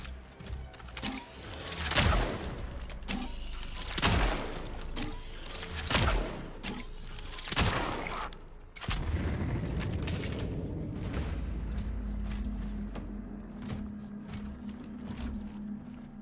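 Charged pistol shots in the sci-fi horror game Cronos: The New Dawn ring out as a series of heavy, booming blasts roughly every two seconds, each with a rising whine and echoing tail, followed by sustained mechanical rumble.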